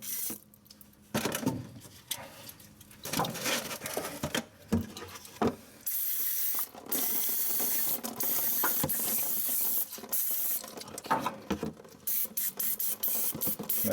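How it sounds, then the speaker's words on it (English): Cleaner sprayed from an aerosol can onto the pilot bearing area during a pilot bearing replacement: a series of close, sharp hissing bursts of varying length, some clipped short, others held for a couple of seconds. "Let me spray it down now."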